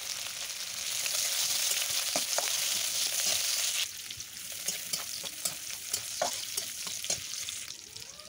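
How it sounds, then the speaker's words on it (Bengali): Chopped onions fry in oil in a wok (kadai), a steady close sizzle with a few sharp crackles and stirring scrapes; the sizzle eases slightly partway through. "পেঁয়াজটা লাল লাল করে ভাজা হয়ে গেছে"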